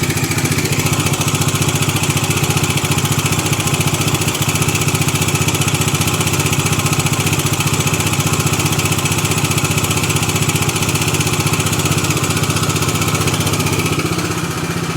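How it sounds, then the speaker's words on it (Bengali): A Triumph Tiger adventure touring motorcycle idles up close with a loud, steady engine drone and a constant mechanical rattle from a timing chain fault, running alone without speech. "এটা হচ্ছে এই মুহূর্তে আমার বাইকের সাউন্ড এবং বাইকের ইঞ্জিনের আওয়াজ।"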